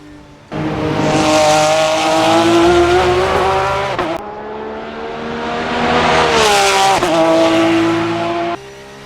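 A Porsche GT3 race car in the sim game Assetto Corsa revs hard and loud with no talk, its engine note climbing, dropping off near the four-second mark, then climbing again before cutting out at the end.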